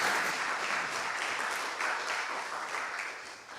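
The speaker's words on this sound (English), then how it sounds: "And yeah, another applause." Applause from a conference hall audience at a GNOME developer gathering, a sustained patter of many clapping hands at moderate volume that gradually thins and fades toward the end.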